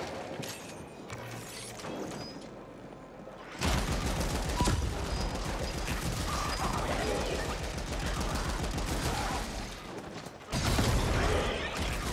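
Rapid weapon fire in the video game The Ascent, dense mechanical bursts that run continuously for long stretches with short pauses between volleys, loud and up front.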